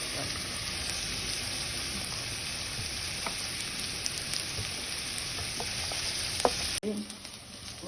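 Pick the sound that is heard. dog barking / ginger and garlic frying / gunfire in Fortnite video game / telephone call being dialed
ginger and garlic frying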